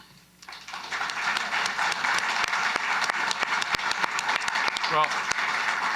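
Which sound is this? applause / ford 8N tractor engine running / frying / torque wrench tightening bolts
applause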